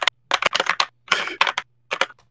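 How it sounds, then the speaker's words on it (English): A mechanical keyboard is typed on hard, with sharp loud clacks in quick bursts and separated groups of keystrokes. They sound close and dry, with no talk over them. "Why are you slamming on your space bar so hard?"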